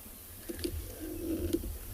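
Soft cooing bird calls on a morning safari in South Africa, a few low rounded notes close by, repeating over a faint background hum.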